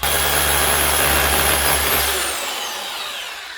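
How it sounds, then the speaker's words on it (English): An electric drill fitted with a 12 mm bit bores into a wall for an anchor, a loud continuous whine and grind that cuts off after about two seconds and leaves a fading hum. "So I've gone to a 12mm drill bit now"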